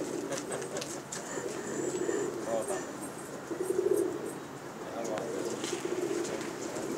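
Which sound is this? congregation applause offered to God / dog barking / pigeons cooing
pigeons cooing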